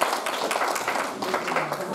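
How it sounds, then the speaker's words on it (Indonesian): Scattered applause from people at a village meeting hall in Kampung Mambunibuni, a short patter of hand claps, fairly faint, with voices mixed in. "Tepuk tangan dong"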